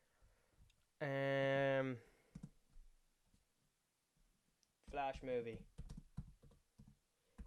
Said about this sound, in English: as you can tell from my typing and how slow it is